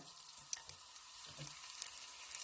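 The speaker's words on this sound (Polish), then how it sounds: "na rozgrzany garnek z olejem wrzucamy cebulę" Onion sizzles quietly in hot oil in a pot, a steady soft crackle with a few small pops, no voices.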